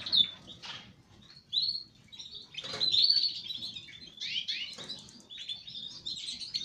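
Gloucester canaries in an aviary chirp and twitter continuously, several birds overlapping in bright, busy calls close by with no one talking.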